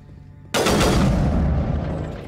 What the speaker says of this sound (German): Schießen.